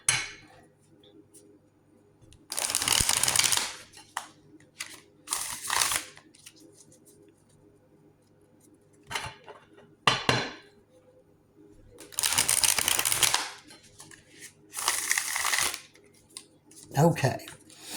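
Tarot cards are shuffled in several separate bursts of quick riffling and crisp slapping, close up, with quiet pauses in between.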